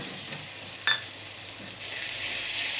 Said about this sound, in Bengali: টমেটোটা দিয়েও এর সঙ্গে সুন্দর করে একটু কষিয়ে নেবো